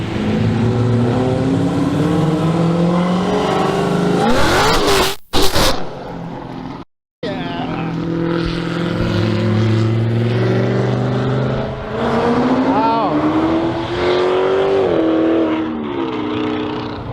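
A Dodge Hellcat's exhaust revs and roars through long, rising and falling engine pulls, loud and close, with a brief drop to silence partway through.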